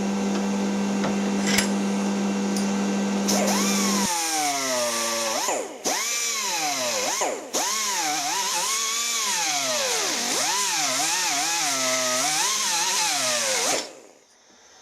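A carbide burr spun by a rotary tool grinds a piece of copper, with a loud high-pitched whine that rises and falls in pitch as the load changes, briefly dipping several times before cutting off.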